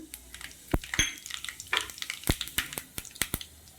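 Tempering spices crackle and pop in hot oil, sharp sputtering bursts scattered irregularly over a quiet sizzling background, close by.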